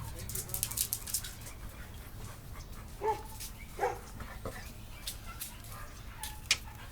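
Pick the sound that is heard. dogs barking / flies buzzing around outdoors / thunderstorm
dogs barking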